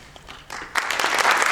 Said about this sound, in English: we can give everybody a round of applause